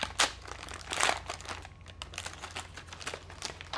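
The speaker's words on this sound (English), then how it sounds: "Pull the corner right here to open up the plastic sheathing." Plastic sheathing on a Dornier AXIS II scope being pulled open, with close, sharp crinkling bursts and rustling that come and go over a few seconds.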